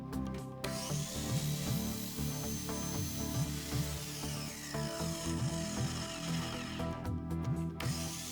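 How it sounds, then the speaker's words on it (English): A woodworking power tool slowly cuts through PVC pipe for a paper tuning rig, giving a steady, continuous whine and rasp with repeated short scraping pulses throughout, close and without speech. "the key with cutting that PVC with the woodworking tool is obviously to take it nice and slowly"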